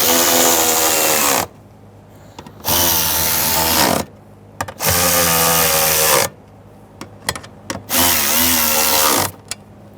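A power tool tightens nuts on the fuel pump cover of a 2006–2010 BMW 550i with a 4.8L V8, four loud, close whirring bursts of about two seconds each, separated by short pauses with faint clicks.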